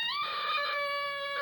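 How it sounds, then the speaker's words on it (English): A heinous screech echoing from up a mountain, a loud, shrill, drawn-out cry with strong ringing overtones that starts abruptly and holds steady throughout, heard alone with no talk. "From up the mountain, this heinous screech"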